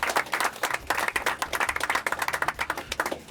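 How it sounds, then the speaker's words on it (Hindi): A small audience at a Pakistani cricket-themed talk show gives light, brisk applause, with individual hand claps clearly separable as it tapers toward the end. "तालियां होनी चाहिए थोड़ी सी।"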